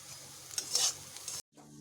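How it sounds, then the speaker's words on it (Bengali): Bitter gourd fries in a pan while being stirred, a soft, fairly quiet sizzle broken by scraping strokes, then a sudden brief silence before the frying resumes. "বেশ ভালোভাবে ভেজে নিতে হবে করলা"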